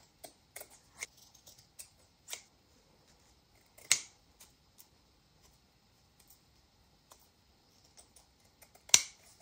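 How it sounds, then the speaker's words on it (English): Scissors cut fabric and cheesecloth scraps for a junk journal, giving a scatter of quiet, sharp snips and clicks at irregular intervals, with two louder cuts standing out against near silence. "So let's cut some scraps."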